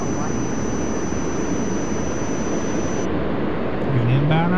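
Airliner jet engines roaring on takeoff in Tower! 2011 at Los Angeles airport, a loud steady rushing drone with a whine that cuts off partway and a rising tone near the end.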